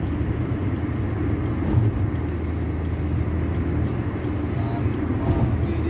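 A Sinar Jaya night bus passes on the road, a steady loud roar of engine and tyres that holds for several seconds with a slight swell partway through.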